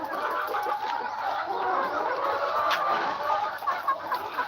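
A flock of farm chickens, including broilers, clucks and murmurs close by in a busy, overlapping chatter, with soft scratching and pecking noises mixed in.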